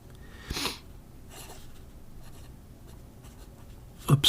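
A TWSBI Obsidian fountain pen writes on paper, giving short scratchy strokes close by with quiet pauses between them and a sharper scratch at the end.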